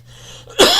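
A man gives a single sharp, loud cough close to the microphone after a brief quiet moment with a faint low hum.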